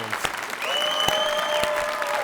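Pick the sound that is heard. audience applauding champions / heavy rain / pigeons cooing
audience applauding champions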